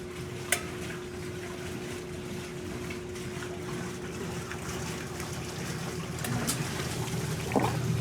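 Water runs steadily through a Maytag washing machine, either an A482 or an A408S, near the end of its rinse cycle. The even rush and trickle carries a faint motor hum underneath and continues without break, with no one speaking.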